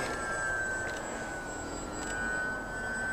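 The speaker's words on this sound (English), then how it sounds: "I don't even know if this plane can do it, Rich." Twinstar model airplane flying overhead on a first flight, a steady high-pitched motor whine that holds continuous and fairly even throughout, with faint swells, alone without talk.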